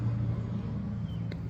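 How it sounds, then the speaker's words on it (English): A loud truck passing by outdoors gives a continuous low engine rumble that holds steady throughout, with no voices. "Loud ass fucking truck."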